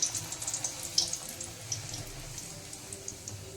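Wheat flour puris frying one at a time in hot oil give a soft, steady bubbling hiss with small crackles and pops, fairly quiet and without talk.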